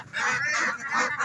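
Belgian ducks raised on a platform farm give a continuous, close chorus of loud, raspy honking quacks, with overlapping calls that swell and dip over roughly a second and no talking.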